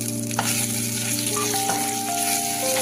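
Masala with browned onion and coriander seeds roasts in a pan, giving a steady, close sizzle with a few light scraping and stirring clicks and a faint tonal hum behind it.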